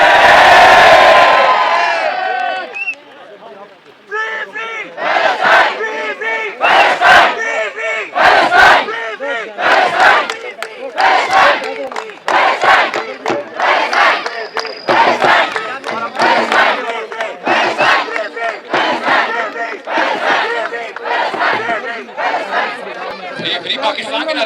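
A large crowd in Islamabad chants Free Pakistan slogans, with loud rhythmic shouted bursts repeating steadily throughout, mixed with cheering and chatter.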